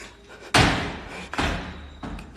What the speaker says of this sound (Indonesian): Pintunya yang nutup siapa ini,